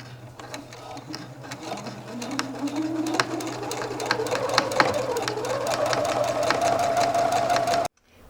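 Sewing machine stitching a seam on a shirt, a steady rapid mechanical whir with rising motor pitch, close and continuous for several seconds before stopping abruptly, with a low background hum.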